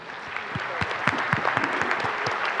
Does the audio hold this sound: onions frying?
no